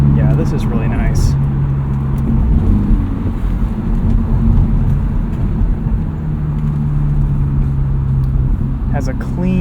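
A 2023 Honda Civic Type R with its front resonator deleted, its exhaust a steady loud drone heard from inside the car, with low engine tones running the whole time and brief talk over it.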